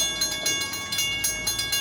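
A passing train rolls by nearby in a rhythmic series of regular clacks, roughly four per second, with steady bright metallic ringing throughout and no voices.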